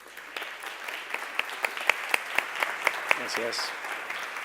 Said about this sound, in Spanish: a quien recibimos con un gran aplauso